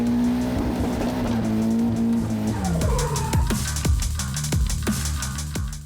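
Drift cars at the Achilles Radial Asian Drifting GP in Jakarta scream at high revs, tyres squealing loudly in a sustained skid, then engine pitch drops and sharp repeated bursts follow as the cars transition.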